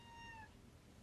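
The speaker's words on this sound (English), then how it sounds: "Did you hear that cat?" A cat gives a single short meow with a clear, tonal cry lasting about half a second, heard at moderate distance over a steady low background rumble.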